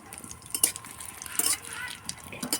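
Whole cumin seeds and dried red chillies hit a little hot oil in a kadai, giving a light crackling sizzle with scattered spoon clinks and stirring scrapes, close and fairly quiet.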